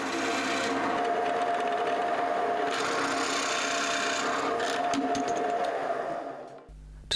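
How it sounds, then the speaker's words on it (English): A steady, loud mechanical whine with grinding as a drill press bores into wood, running continuously for several seconds before winding down at the end. "I'm going to set up a depth stop and then drill down on the two marks I've made."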